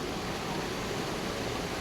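Steady broadband rush of water flowing downward at a spot in Budapest, a continuous even wash with no breaks, no voices over it.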